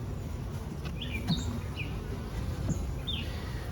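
Honey bees droning in an open, previously queenless hive, a dense low buzz filling the background, with a few faint bird chirps above it.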